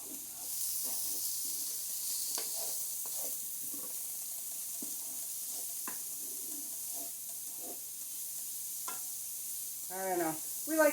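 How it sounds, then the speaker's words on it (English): Mushrooms cooking in a pan for pasta, a steady hissing sizzle with scattered clicks and scrapes of stirring, and a brief voiced sound near the end. "now we're going to go ahead and add our mushrooms. And we are going to cook these for a few minutes"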